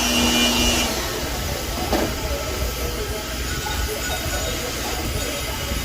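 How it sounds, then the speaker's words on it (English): A hair dryer on low heat blows with a steady, airy whoosh that fills the clip, running continuously at an even level without pauses. "Don't use your blow dryer on high the whole time."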